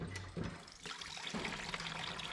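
Vinegar is poured from a container through a paper towel strainer back into a tank, making a steady close trickle and splash of liquid that runs without pause for the whole stretch.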